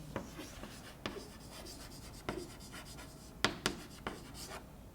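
Marker or chalk writing on a board in a lecture hall, faint scratchy strokes and occasional taps against a quiet room with no speech.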